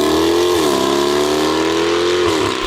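A motorcycle engine drone holds a low, rough tone, dipping slightly in pitch twice as if easing off the throttle, close and loud.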